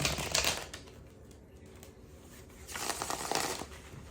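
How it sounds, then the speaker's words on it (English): Tarot cards shuffled by hand, two bursts of riffling, rustling paper close to the microphone, separated by a quieter pause, with no talking. "So I like to shuffle the cards 4 times."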